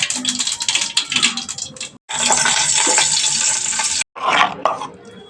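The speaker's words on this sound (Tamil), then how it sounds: "அதுக்காக நான் 2 சட்னிக்கு சேர்த்து தாளிக்கிறேன்" Spices crackle and sizzle in hot oil while tempering for peanut chutney, a loud spattering hiss that breaks off briefly twice, with faint stirring sounds.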